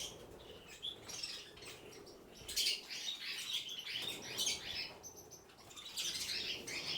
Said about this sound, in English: There's a close up of these birds like little scavengers today.